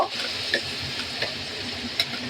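Biryani ingredients roasting in a hot pan, a bright steady sizzle broken by three quick spatula clinks and scrapes, heard up close with no talking.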